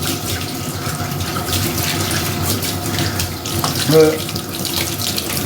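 Tap water runs steadily throughout while a dog is bathed, filling the clip with a constant splashing hiss; a single spoken word breaks in briefly near the end.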